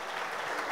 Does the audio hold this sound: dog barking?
no